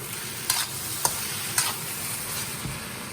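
Marinated shrimp sizzle in a hot wok for fried rice with vegetables, a constant, close, loud hiss broken by four light, evenly spaced clinks or scrapes.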